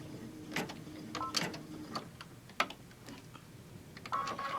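An embroidery machine stitches a mug wrap held in the hoop, giving off faint, irregular mechanical clicks and brief whirring bursts as the needle and hoop move.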